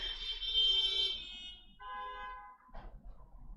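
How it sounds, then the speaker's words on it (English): Car horns honk in the distance, faint sustained tonal blasts from outdoor traffic, heard in a few overlapping bursts with pauses between them. "Everyone's honking."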